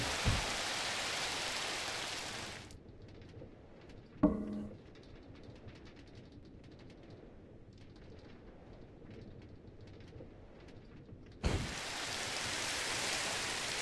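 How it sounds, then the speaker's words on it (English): Rain in the video game Create: Aeronautics makes a steady hiss that drops away for several seconds and then returns loudly, with a soft thump in the quieter middle stretch. "Why is the rain just moving?"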